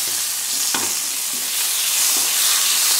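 Chopped tomato and green chilli sizzle loudly in hot oil flavoured with nigella seeds. A continuous bright hiss carries a few soft stirring knocks, close and steady throughout.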